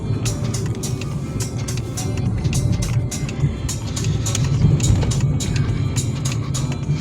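A Volkswagen Golf 4 driving on the road, captured from inside the cabin: a loud, steady engine and tyre drone with low rumble, overlaid by frequent sharp ticks and clicks throughout.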